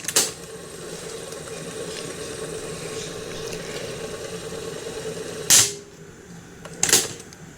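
A noisy cassette player's tape mechanism runs on rewind with a steady whirring motor hum, interrupted near the end by two sharp mechanical clunks.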